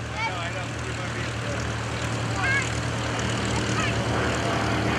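An aerobatic propeller airplane with finned, air-cooled cylinders diving to gain airspeed at the 2011 Greenwood Lake Airshow, its engine a continuous loud, even drone that rises slightly midway, with a voice mixed in.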